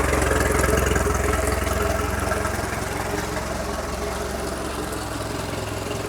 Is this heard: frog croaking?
no